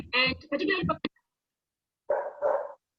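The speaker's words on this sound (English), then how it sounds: "there's someone with a barking dog behind" A dog barks in the background of a call, giving a few short barks after a stretch of speech, then a gap and two more loud barks, fairly close.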